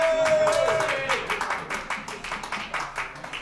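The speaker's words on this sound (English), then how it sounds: "a big, big round of applause for Mr." An audience at a music showcase in Collingwood claps, with dense, close applause that slowly thins into scattered individual claps.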